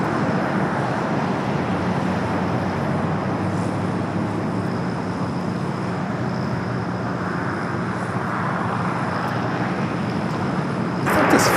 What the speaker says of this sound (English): Next takeoff is American Airlines flight 1899 headed to Indianapolis, Indiana, 737-800